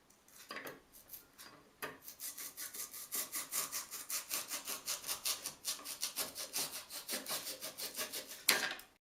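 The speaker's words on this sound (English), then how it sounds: "you can now cut away any excess foam. Just saw away there." A saw cuts away hardened excess Polycell expanding foam filler from a deep hole, making steady rapid rasping back-and-forth strokes, close and fairly loud, with a few short pauses early on.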